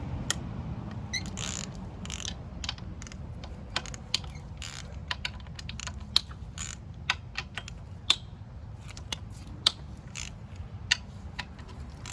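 A ratchet removes the intake manifold bolts on a 1998 Honda Accord V6, with rapid pawl clicking in bursts over a low background hum and sharp occasional ticks, close and fairly quiet.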